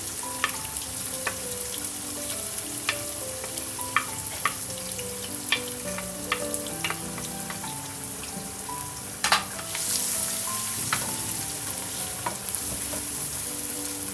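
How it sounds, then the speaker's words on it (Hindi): Onions fry in hot oil for keema with a steady, close crackling sizzle, broken by regular taps and scrapes of stirring, over quiet background music. "जैसे ऑयल गर्म हो जाए तो हम इसमें फिर प्याज डाल देंगे, और अच्छे तरीके से प्याज को ब्राउन कर रहा है।"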